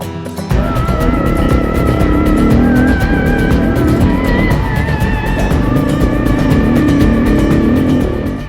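A loud enduro motorbike engine roars continuously at high revs on a track, pitch rising and falling as the bike accelerates and shifts, close and unbroken.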